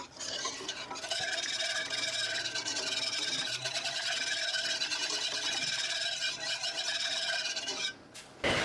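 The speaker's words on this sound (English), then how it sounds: "Make sure we whisk to get all the lumps out." Lumpy country gravy whisked briskly in a pan, a continuous close scraping and rasping of the whisk against the pan for several seconds before it stops.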